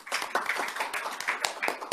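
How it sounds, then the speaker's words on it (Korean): A seated audience at a lecture gives a short burst of hand clapping to welcome a speaker, close and fairly dense, lasting under two seconds. "박수로 환영해 주시기 바랍니다"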